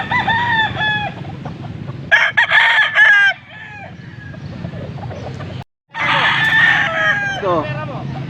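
Stag roosters at a market in Angeles, Pampanga, crowing repeatedly in loud, close bursts with clucking between calls, over a low murmur of voices and market noise.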